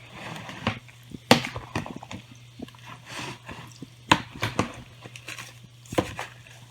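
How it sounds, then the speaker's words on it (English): Thick sweet potato and oat bar batter is stirred in a small mixing bowl, giving irregular wet slaps, knocks and scrapes of the spoon against the bowl over a low steady hum. "I'm just going to mix it up."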